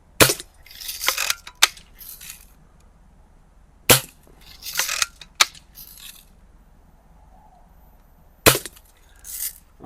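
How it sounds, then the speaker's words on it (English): Daisy Red Ryder air rifle fired several times, each shot a sharp close snap with a short rattling tail, spaced irregularly with quiet gaps between. "I think it's a cracking little air rifle"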